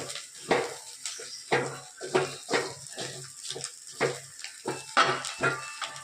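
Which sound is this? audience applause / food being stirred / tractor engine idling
food being stirred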